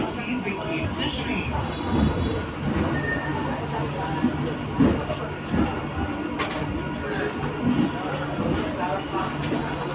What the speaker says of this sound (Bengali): আমাদের ট্রেনটা নৈহাটির প্ল্যাটফর্মে ঢুকে গেল